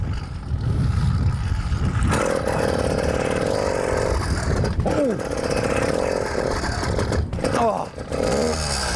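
A 100cc petrol engine fitted to a mountain bike, buzzing loud and close as it revs up and down in rising and falling surges through a wheelie attempt, with a voice breaking in briefly.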